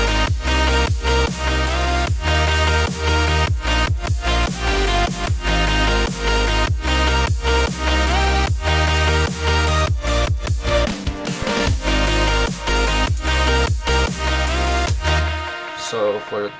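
Dense electronic dance track at its third drop, with a new melody and a different drum pattern: loud, driving, continuous beats and layered synths that cut off near the end, no voices.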